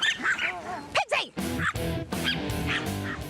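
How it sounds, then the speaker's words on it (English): Small dogs bark and yip in sharp, close bursts at a local park, with a person talking over and between the barks. "as soon as they hit the local park, they're back to their barking best"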